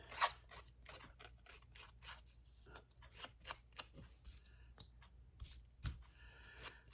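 Scissors snip through a printed photo in a quick series of sharp, close cuts, with soft rustling of paper between the strokes and brief pauses.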